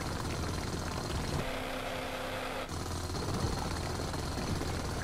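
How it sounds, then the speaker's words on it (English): A jackhammer tool in the video game Space Engineers drills through stone, giving a steady, loud mechanical roar that runs the whole time, with a brief shift in tone partway through. "then you just put that jackhammer right on it"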